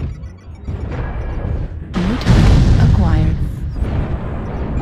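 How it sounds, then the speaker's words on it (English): Artillery strike explosions in a video game: heavy booms and crashing blasts swell in the middle of the stretch, layered over continuous battle noise and other game sounds. "Artillery strike online."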